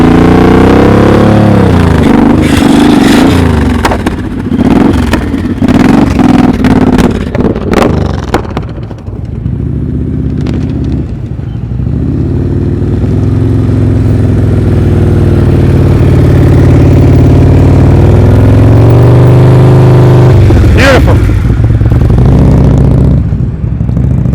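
A motorcycle engine with throttle held up during slow-speed riding practice: a loud, near, sustained hum that wavers, settles into a steady tone, then rises near the end.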